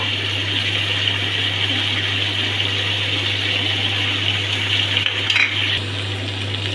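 Chicken masala curry fries in oil in a pan with a steady sizzle, and a spoon stirs it now and then with soft scraping, close by.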